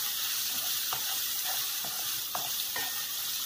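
Onions sizzle steadily in hot oil with salt added, a continuous frying hiss broken by several soft scraping strokes of a spoon stirring the pan, close and alone without talk.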